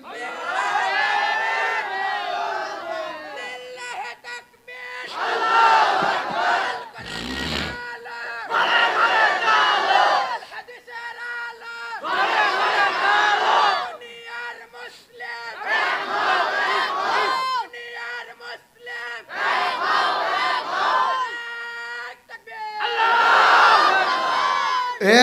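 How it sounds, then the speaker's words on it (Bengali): Crowd at an outdoor religious sermon gathering in Rajshahi shouting a takbir chant in call-and-response, a leader's call answered by loud massed voices in repeated bursts, about eight rounds with short gaps. "দেন একজন তাকবীর দেন দেখি"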